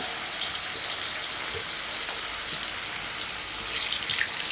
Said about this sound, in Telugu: ఆయిల్ మంచిగా హీట్ అయిన తర్వాత మనం కలిపి పెట్టుకున్న ఈ చికెన్ పీసెస్ వేసుకోవాలి.